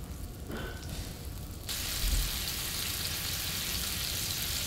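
A bourbon steak on a hot griddle gives a dense, hissing sizzle that suddenly grows louder and brighter partway through and then holds steady, close and continuous.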